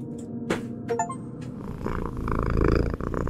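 A house cat purring up close, a steady low rumble building and growing louder toward the end, with a few brief knocks and tones early on.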